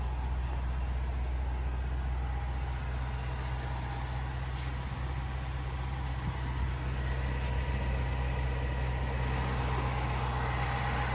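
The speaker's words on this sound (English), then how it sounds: "Under the hood is a 5-liter supercharged V8 engine" Supercharged 5-liter V8 of a 2016 Range Rover Sport SVR idling steadily with the hood open, a deep continuous low rumble held at an even level throughout, with no voices.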